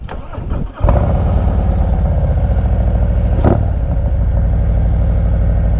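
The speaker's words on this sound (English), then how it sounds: "And these pipes, I could tell you, are pretty loud." A 2024 Harley-Davidson Street Glide with a Stage Two kit and loud aftermarket pipes cranks and fires up, then settles into a loud, throaty idle with a deep rumbling exhaust and one brief rev.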